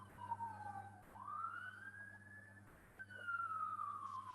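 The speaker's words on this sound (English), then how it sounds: "I hear there's some sirens out there." Police sirens outside in the distance, faint wailing tones rising and falling in long sweeps with a brief break between cycles, over a quiet indoor hum.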